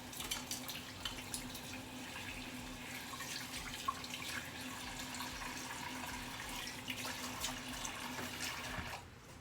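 Pimento seeds are rinsed under a running tap, a steady quiet stream of water with light splashing and patters, continuous for several seconds before cutting off at the end.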